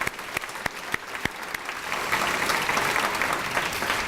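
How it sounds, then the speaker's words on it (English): Applause for award winners at the PCD Legends Awards Ceremony 2017 begins with a few distinct, spaced claps, then swells into fuller, continuous clapping from the audience. "let's just do one more round of applause for everybody that was awarded tonight"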